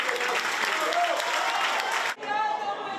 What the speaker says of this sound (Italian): Pochi applausi, molte interruzioni dal pubblico che in aula contesta il sindaco